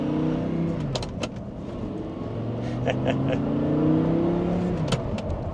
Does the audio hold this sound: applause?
no